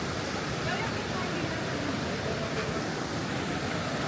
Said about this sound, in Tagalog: Ayan, malapit sa ilog.